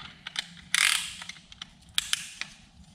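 A piston ring compressor being ratcheted tight around pistons for a Porsche 911 M96 engine short block, giving close, crisp ratchet clicks in an uneven series with one longer grinding rasp, no talking.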